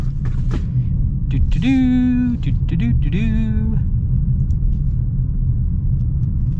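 A 2022 Jeep Compass Trailhawk circles a roundabout, its steady low road rumble and engine drone running throughout beneath a passing whining tone.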